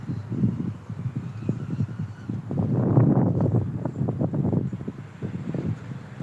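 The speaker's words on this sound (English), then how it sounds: "It's so windy." Strong wind buffets the microphone in irregular low rumbling gusts, loud and close, swelling and easing throughout.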